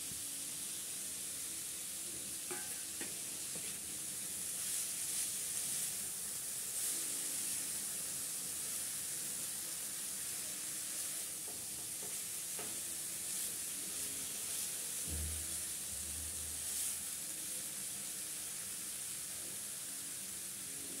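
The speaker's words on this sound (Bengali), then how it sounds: "এখন এখানে দিয়ে দিচ্ছি কিছুটা বাঁধাকপি" Shredded cabbage fries in a pan over a gas stove with a quiet, steady sizzle and hiss lasting throughout, broken by occasional light stirring clinks.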